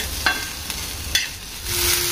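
Onion and tomatoes sauté in a pan for dum aloo masala with a low steady sizzle, punctuated by a few quick scrapes of a spoon stirring, close and unaccompanied.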